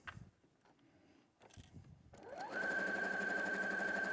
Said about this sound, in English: So I'm going to sew from the top